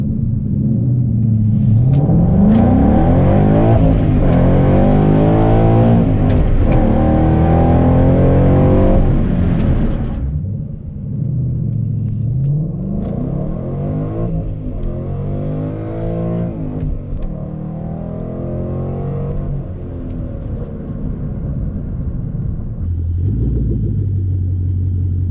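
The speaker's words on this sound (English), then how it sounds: "Pull off like a stoplight and just floor it." A 2014 Ford Mustang GT accelerating hard from a standstill, its engine roaring loud and rising through the gears with brief dips at each shift, then settling to a lower rumble before building again.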